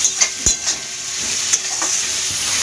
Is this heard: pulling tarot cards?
no